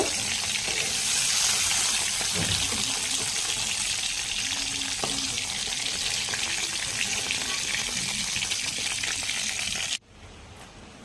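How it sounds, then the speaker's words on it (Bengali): Pomfret fish sizzling in mustard oil in a wok, a dense, even frying hiss with occasional pops and scrapes, close and loud until it cuts off abruptly near the end. "সব মাছ একে একে এইভাবে ভেজে নিব।"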